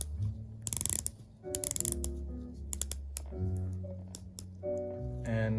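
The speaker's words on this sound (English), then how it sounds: "Very nice ratcheting action." Stainless steel Oris Aquis dive watch bezel turned by hand, giving a quick run of crisp, close ratcheting clicks in short bursts with brief pauses between turns.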